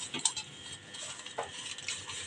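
Fish being rubbed and mixed by hand with salt and turmeric, giving soft wet squelching and light scraping sounds that run steadily, close and fairly quiet, with no talk.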